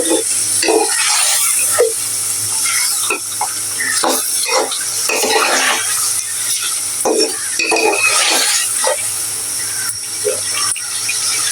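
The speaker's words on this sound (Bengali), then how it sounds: "বন্ধুরা ভালো করে এটা কষিয়ে নিব" Boal fish head curry is sautéed in a pan, with a loud constant sizzle and a spatula scraping and stirring in irregular bursts, heard up close.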